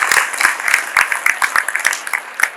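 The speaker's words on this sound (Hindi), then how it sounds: "तो ऐसी सोच रखने वालों के लिए मैं चाहूंगा एक बार जोरदार ताली बजाइए।" Students clap together at a school awareness program in India, producing loud, dense applause with sharp individual claps standing out, steady for a couple of seconds.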